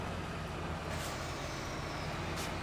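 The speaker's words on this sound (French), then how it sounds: "Un petit coup de frein, on entend la décompression. Système pneumatique." Pneumatic air brake on a tractor-trailer in Farming Simulator 15 releases a hissing decompression over a steady low engine rumble, with brief bright bursts near the middle and end; no one speaks.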